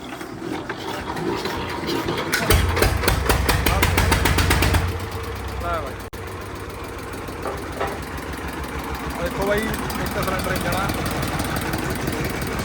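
A 55-year-old DT 14 tractor's engine cranks with a loud mechanical clatter for a few seconds, then settles into a steady, rattling idle.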